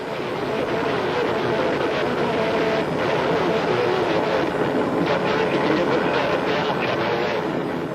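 A police helicopter drones steadily overhead, its broad rotor and engine noise filling the air without a break.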